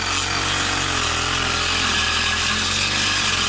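A cross cutter machine on a farm runs at a loud, steady engine drone with a constant rough motor tone throughout, with no speech over it.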